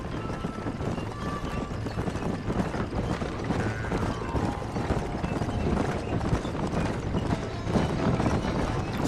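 Galloping horse hooves in a race in the video game Red Dead Redemption, a steady rapid clip-clop running continuously under a dense layer of game music and ambience, without speech.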